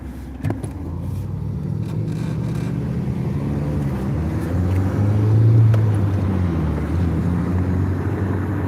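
A manual-shift car driving through heavy traffic, with a steady low engine and road rumble swelling briefly midway before settling back to a constant drone.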